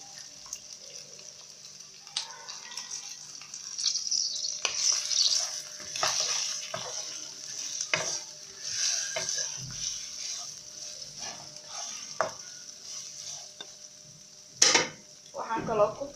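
Onions stirred into already-cooked meat frying in a pot, with a steady sizzle broken by scraping and clinks of a spoon against the pot, close by and moderately loud.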